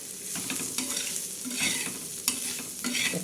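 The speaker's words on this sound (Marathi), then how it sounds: "आता मस्तपैकी असं भाजताय भाजते ते ठेसा असं चांगला भाजून घ्यायचा" Ridge gourd thecha being stirred and roasted in a pan, with repeated scraping strokes of a spatula over a steady, close sizzle, no talk.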